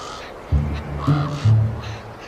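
Raven chicks in a Yellowstone nest let out three short, rough calls in quick succession, close by, with soft low bumps under each cry and no voices.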